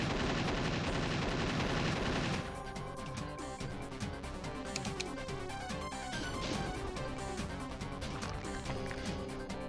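Assault rifle gunfire in GZDoom, a modded DOOM custom level, rattling in loud dense bursts over a busy game soundtrack, heaviest in the opening two seconds and then continuing in scattered shots.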